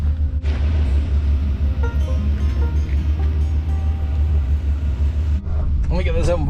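A 1990 Isuzu Trooper with over 250,000 miles idles warm, a steady low engine rumble heard up close, with a person speaking near the end.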